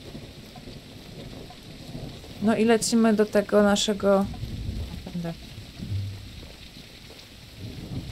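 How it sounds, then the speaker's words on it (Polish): Steady rain and rumbling weather from the video game Tribe: Primitive Builder form a continuous background hiss, while someone talks over it for much of the stretch. "ołtarza w piękny deszczowy dzień"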